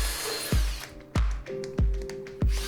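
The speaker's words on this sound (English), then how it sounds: "All right, and the drilling procedure begins." Power drill boring holes through a mash cap with stepped bits, giving four sharp bursts spaced about half a second apart. Each burst rises to a whine and then falls away, close and loud with no talk.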